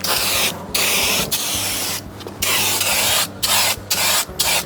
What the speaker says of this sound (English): the turbo spray system was pretty great